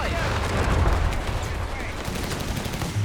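Artillery-like gunfire booms out in the Company of Heroes 3 strategy game as an anti-tank gun and a Marder tank destroyer fire during a 1v1 match, with dense battle noise running continuously underneath.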